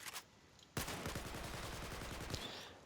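Rapid automatic gunfire in Battlefield 4 bursts in suddenly after a brief lull, then continues as a dense, loud, steady stream of shots for nearly two seconds before cutting off.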